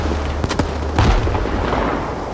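In the video game Stalker 2, a pair of sharp gunfire-like cracks is followed by a heavy grenade blast booming close and loud, with a rumbling tail that fades out.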